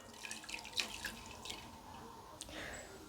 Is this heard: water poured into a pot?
yes